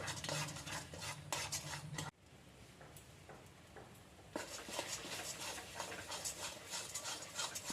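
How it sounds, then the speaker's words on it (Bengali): A spoon stirs a thick paste of plantain peel, pumpkin peel and shrimp in a pan, giving close scraping and clinking with a soft sizzle, a brief quieter lull midway, then steady stirring again. "এখন সবটাই খুব ভালোভাবে নাড়তে হবে।"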